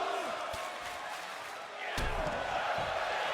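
A crowd roars and cheers in the WWE 2K24 wrestling video game, a broad constant wash under commentary, swelling louder partway through with a sharp impact thud.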